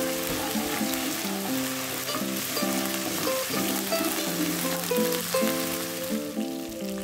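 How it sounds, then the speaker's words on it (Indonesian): Spice paste sizzles and fries steadily in a pan for potato and beef perkedel. The crackle is close and continuous, with no talking and some music playing underneath. "Tumis bumbu hingga wangi dan warnanya menjadi kuning kecoklatan."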